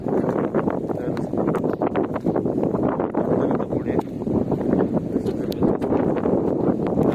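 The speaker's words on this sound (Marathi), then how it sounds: "वारा सुटला जास्त, तर आवाज बरोबर येणार नाही" Constant roaring buffets of wind hitting the microphone at a riverside, loud and uneven, with no voices coming through.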